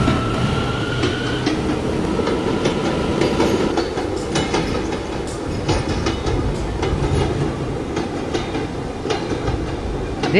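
An R179 subway car on the Brooklyn-bound M local runs between stations on the Myrtle Avenue Line, giving a steady loud rumble with rhythmic clickety-clack of the wheels and brief metallic squeals throughout.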